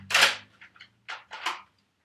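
A Nerf N-Strike Recon CS-6 blaster fires one soft snap, followed by a few quieter plastic clicks and clacks from close by.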